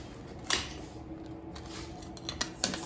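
A knife cuts through an air-fried frozen French bread pizza with a crisp crust, giving a sharp crunch followed by a few scattered crackling cuts, close by with no speech.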